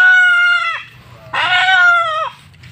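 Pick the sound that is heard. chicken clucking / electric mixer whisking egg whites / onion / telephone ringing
chicken clucking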